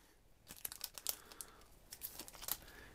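Plastic and paper packaging of an iPod sticker case being opened up close, a quiet series of crinkling and tearing rustles in irregular bursts, with no talk.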